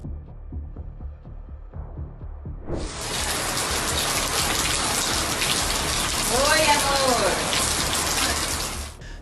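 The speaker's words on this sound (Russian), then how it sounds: "Сильные дожди, не прекращавшиеся в течение последних суток, привели к масштабным наводнениям и подтоплениям" Heavy rain pours down steadily during a flood-causing storm, a dense, loud hiss that starts abruptly after a few low knocking sounds and then continues unbroken, with no talking.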